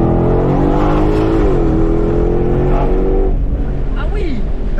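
A Ford Mustang Shelby GT500 with a 771-horsepower engine revs hard and accelerates, its loud, rising engine note shifting pitch as it pulls away, while people talk over it.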